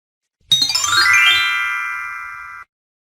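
A bright notification bell chime rings once, loud and clear, with layered ringing tones that decay smoothly over about two seconds before cutting off into silence.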